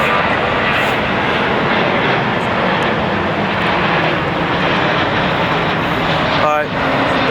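A large airliner takes off at LAX with a loud, steady engine roar throughout, broadband and constant, with a brief tonal whine near the end.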